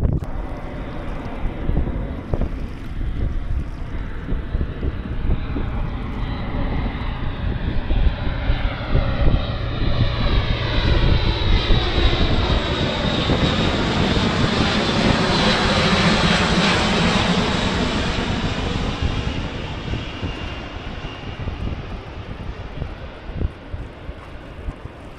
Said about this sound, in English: I'd say that was a Hercules, but that's the only sort of four propeller transporter plane I know